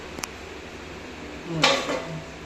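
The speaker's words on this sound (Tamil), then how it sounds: "இப்போ நம்ம தட்டு போட்டு கொஞ்ச நேரம் அதை கொதிக்க விடணும்" A short metallic clatter of a lid set onto a cooking pot, preceded by a faint tap, over a steady low hum.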